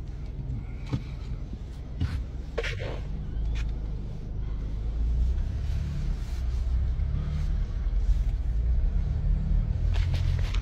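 A car being driven, heard from inside as a steady low engine and road rumble that holds throughout, with a few faint knocks and rattles and no voices.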